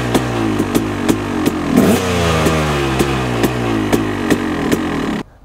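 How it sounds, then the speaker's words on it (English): Motorcycle fitted with a Rekluse Core EXP 3.0 auto clutch revving hard and steadily, its engine note climbing with a sharp blip near the middle and cutting off abruptly at the end, loud and close with no talking. "take the slack out of the clutch system and rev the motorcycle."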